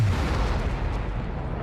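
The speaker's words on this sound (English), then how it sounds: "It is not explained at all as to why it creates such a massive explosion" A massive explosion from a tracking device in the anime The Kingdoms of Ruin, a loud, dense roaring blast that keeps rumbling heavily for the whole short moment.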